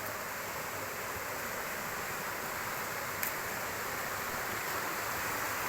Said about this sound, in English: Not a major waterfall, but as you can see, there's a lot of water coming there